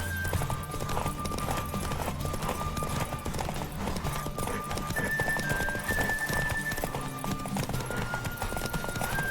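Rapid clip-clop of a horse's galloping hooves in The Witcher 3: Wild Hunt, over a busy, music-laden game soundtrack, steady throughout with a brief whinny.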